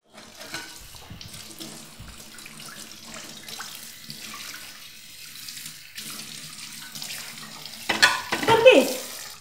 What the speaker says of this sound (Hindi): और फिर बर्तन धोए